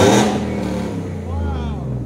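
A Ford F-150 with a 5.0L V8, E85 tune, long tube headers and Dynomax Race Bullets exhaust revs hard, a loud, deep, raspy roar rising and holding close by for about two seconds.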